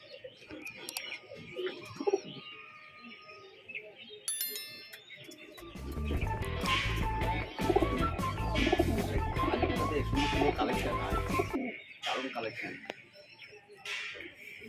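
Madras flying pigeons in a loft give soft low coos and flutters amid a busy shuffling, clattering background, with someone talking over much of it.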